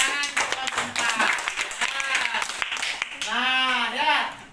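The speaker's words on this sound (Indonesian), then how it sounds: "tepuk tangan untuk keempat" Classroom clapping for student group four, a scattered run of claps from pupils mixed with children's voices and talking throughout.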